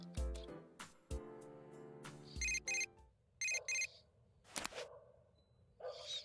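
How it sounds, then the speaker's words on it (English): Jingles and chimes from the video game Persona 4 Golden, including a phone text message alert, come in a series of short electronic tones and bursts with gaps between them, no speech. "Received a text message."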